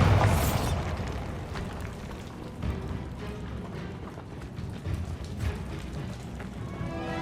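A Bombarda blasting spell goes off in Hogwarts Legacy, opening with a loud booming explosion that fades into rumbling debris and scattered clattering game sounds.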